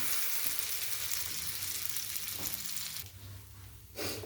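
Bread pizza frying in oil on a hot tawa, a steady close sizzling hiss that runs continuously, briefly dipping and then flaring up again near the end, with no talking.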